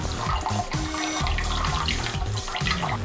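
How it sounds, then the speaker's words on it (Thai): Suki broth being poured into a cooking pot: a steady liquid splash and gurgle running throughout, fairly close and continuous, with no talk. "เทน้ำลงไป ก็จะมีการเติมน้ำแกงสุกี้ลงไปเล็กน้อย เติมน้ำซุปสุกี้ลงไปแบบนี้"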